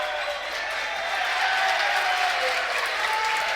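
A high school varsity boys basketball gym crowd roars and applauds continuously, loud and sustained with cheering voices blended into a dense wash.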